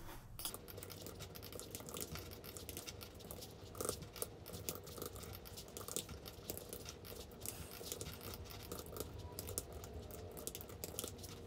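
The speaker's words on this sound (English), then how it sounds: "I'm just going to type it out right now." Typing on a computer keyboard, a faint, fast and fairly steady patter of key clicks running throughout, with no talking.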